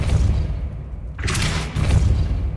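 A Depulso force spell cast in Hogwarts Legacy gives a sudden whooshing burst with a low boom, breaking through a rumbling game background and fading after about half a second.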